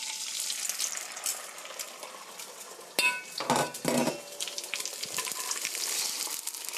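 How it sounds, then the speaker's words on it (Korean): Beaten eggs going into hot oil in a pan for an omelette with sweet chili sauce, a steady hiss that swells into a burst of louder sizzling and clatter midway, then settles back. "기름을 한 바퀴 이렇게 돌려주시고요. 풀어놓은 달걀 넣어주세요."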